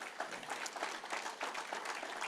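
A church congregation claps in praise to the Lord, a faint, distant wash of steady clapping in quick, loosely rhythmic pulses.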